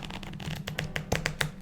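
A deck of roughly 100 trading cards for a commander game is riffled and shuffled close by, giving a soft papery flutter followed by several crisp snapping riffles, quiet and alone.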